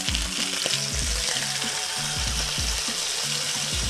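Garlic frying in hot oil beside a searing ribeye steak gives a loud, steady sizzle and crackle throughout, over a low, rhythmic background.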